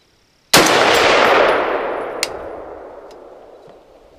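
A single loud rifle shot goes off while the rifle is zeroed at 25 yards on a range. The sharp crack is followed by a long, rolling decay that fades over several seconds, with a faint metallic tick partway through.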